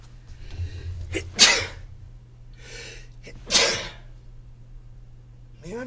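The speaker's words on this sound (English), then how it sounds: "Man, I've been sneezing a lot lately, I've noticed." A man sneezes twice, each sharp burst standing out clearly against a steady low hum, with faint breathing around them and no talk.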